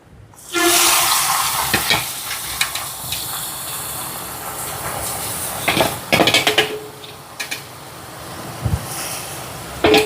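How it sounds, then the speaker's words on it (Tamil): Prawns fry in hot oil that hisses and crackles steadily after a sudden onset, with occasional clinks and scrapes of a utensil against a pan, no talking. "எண்ணெய் சூடாகிட்டு இறாலை பொரிக்க போடுவோம்."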